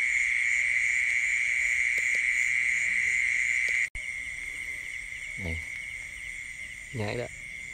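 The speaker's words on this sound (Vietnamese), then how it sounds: "Thì con ếch cũng đồng dữ ha." Night chorus in a flooded rice field during the early rainy season: a steady, shrill high trill of frogs or insects runs throughout, broken by a brief gap midway, with a couple of low croaks or bumps near the end.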